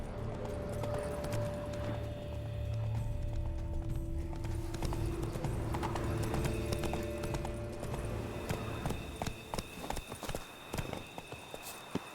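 Rhythmic clip-clop of several horse hooves moving along in The Witcher 3 video game, with occasional clatter and creaks, fairly close and continuous, no talking.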